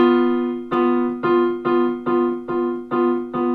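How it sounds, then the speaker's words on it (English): Ukulele plays a flattened fifth interval, struck about eight times in an even rhythm, each strum clear and close, decaying before the next. "That's the sound of a flattened fifth."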